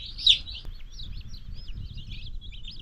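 Continuous high, thin cheeping from many chicks, a steady twittering chorus over a low background hum.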